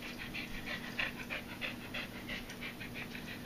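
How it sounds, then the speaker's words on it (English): A dog pants steadily in a workshop, quick rhythmic breaths close by over a low background hum. "Good puppy."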